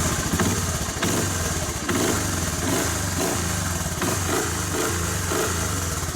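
A 1985 Honda ATC250ES ATV engine turns over after a tune-up and settles into a steady, rumbling idle with a regular chugging pulse, loud and close throughout.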